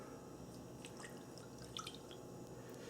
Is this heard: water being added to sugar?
yes